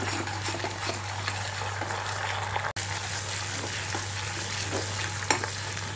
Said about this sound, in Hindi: अभी जो जिंजर गार्लिक पेस्ट भी है वो भी ऐड कर देती हूँ के साथ फ्राई कर लेती हूँ